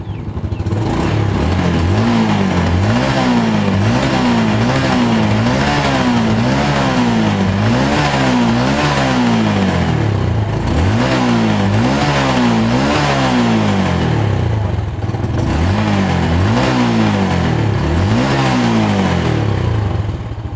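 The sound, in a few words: Yamaha Jupiter Z1 motorcycle engine running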